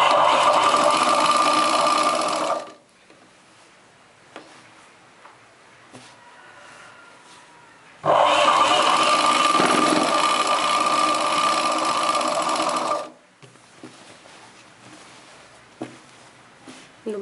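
A sewing machine stitches along the folded edge of a chudidar top in two loud, steady bursts of rapid whirring, separated by a quiet pause with small handling noises.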